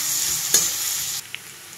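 Chopped onion and ginger paste sizzle in oil and butter in a wok, a bright, constant frying hiss with one scrape of stirring before the sound drops away abruptly, leaving a quieter simmer.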